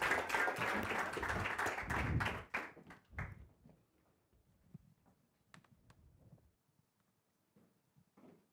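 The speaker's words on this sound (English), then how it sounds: "Let's give him a warm round of applause." An audience at an evening launch event applauds loudly for about three seconds, then the clapping dies away into a quiet room with scattered faint thumps.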